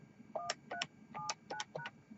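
Keypad tones from a Grandstream GXP2135 desk phone on a UCM6204 system as a voicemail password is entered: five short, evenly spaced two-tone beeps, fairly close and clear, with no talking over them.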